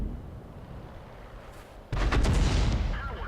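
Artillery shell slamming into a KV-1 tank in World of Tanks: quiet low rumble, then a sudden loud blast with crackling, booming debris that lingers to the end.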